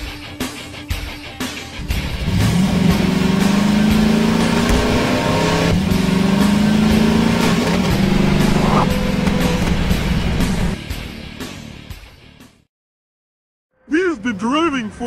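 A car engine droning steadily while driving, rising in pitch through several gear changes, loud and close, with voices talking over it before it cuts out.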